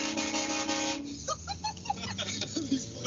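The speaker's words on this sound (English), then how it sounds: "When I got mine, it came with a train horn." A train horn fitted to a Scion car blares in a loud, steady blast lasting about a second, then cuts off into quieter background noise with scattered short tones.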